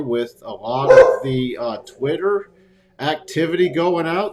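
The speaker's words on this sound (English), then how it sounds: "Sorry about the dogs barking." Dogs bark in the background, several quick yelps and barks rising under someone speaking steadily in the foreground, fairly near but softer than the voice.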